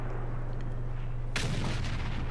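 A single heavy tank cannon shot from World of Tanks booms out suddenly partway through, a sharp loud blast that rolls off into a rumbling tail over a steady low engine drone.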